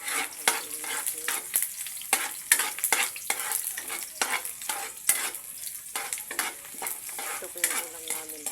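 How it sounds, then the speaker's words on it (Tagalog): Onion and garlic stirred and frying in a pan, with a steady close sizzle broken by repeated scraping strokes of a utensil against the pan. "maglalagay po tayo ng sibuyas at saka bawang. Yan. Sibuyas at saka bawang. Yan. Haluin natin."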